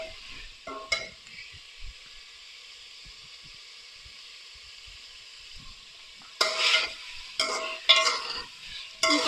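Chopped green chilies frying in a pan with tomato and mutton for a karahi, a low steady sizzle with a few faint ticks, then several louder stirring scrapes near the end, close with no speech.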